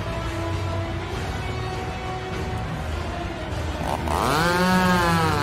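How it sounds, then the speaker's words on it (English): A chainsaw weapon in the Roblox game Us Are Toys buzzes steadily and loudly throughout, then revs up to a higher rising whine near the end, with no talk. "Guys, like a chainsaw."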